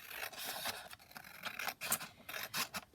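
Scissors snip around a printed image cut from a book for a craft journal. Close, quiet, rhythmic paper cuts with light rasping, and no voices.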